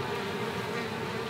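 Anthophora bees from Japan hum in a continuous, close buzzing drone with no breaks.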